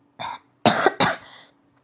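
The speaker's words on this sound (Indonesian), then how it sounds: "saking kagetnya aku sampai batuk aku guys." A short burst of coughing, three quick harsh hacks close to the microphone, then quiet.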